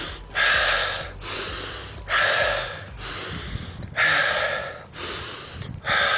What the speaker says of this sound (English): when you're really tired, you want to breathe like that and you'll be able to recover much quicker